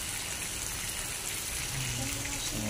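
Steady rain falls at Bukit Satus hillside campground near the Curug Ciangin waterfall in Subang, making a dense, continuous hiss with no clear breaks and faint low rumbling underneath.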